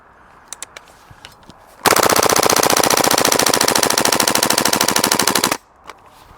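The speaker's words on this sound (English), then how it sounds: "Yes, it definitely can mag dump." Cybergun WE P90 gas blowback airsoft SMG emptying a full magazine, a few faint clicks, then a loud, unbroken rapid-fire burst of about four seconds that stops abruptly into quiet.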